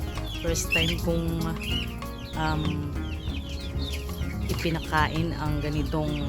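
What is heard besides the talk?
chickens clucking while eating melon rinds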